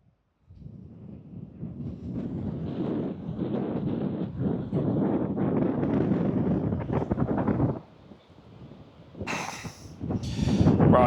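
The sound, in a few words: strong wind at the beach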